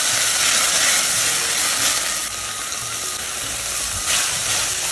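A spice paste of chilli and cumin hisses loudly as water hits the hot pan, a dense steamy sizzle that stays strong and steady throughout, with no talking.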